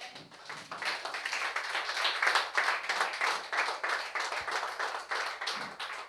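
A church congregation claps together in a dense, steady rhythm, many hands applauding continuously at a fairly even level for several seconds.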